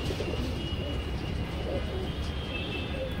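A Pakistani kalsira pigeon coos softly in a few low, repeated calls under a constant steady background hum, with no voices.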